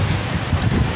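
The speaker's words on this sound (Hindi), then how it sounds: "अब ये है कि हवाएं तेज़ हो गई हैं, बारिश तेज़ हो गई है।" Strong wind and heavy rain during a rainstorm, heard as a steady, loud, broadband rush with a low rumbling gust component running throughout, close to the microphone, with no voices.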